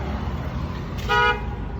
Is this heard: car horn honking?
yes